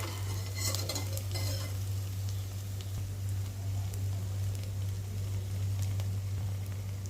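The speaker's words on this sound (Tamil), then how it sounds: "அதை அப்படியே நல்லா வதக்கிக்கலாம்" Ingredients for a Tamil fish curry sautéing in a pan, with steady sizzling and frying and a spoon stirring and scraping against the metal, close and continuous under a low hum.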